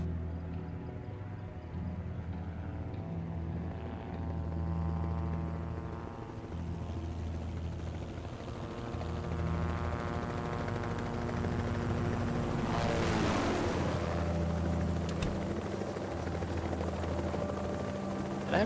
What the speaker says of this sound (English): Helicopters are flying over.